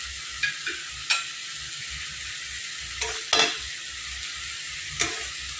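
Greens curry cooked with fish oil, with garam masala powder being stirred in, giving a quiet sizzle beneath several sharp spatula scrapes and taps against the pan, close by.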